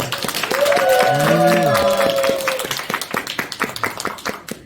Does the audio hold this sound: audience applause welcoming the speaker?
yes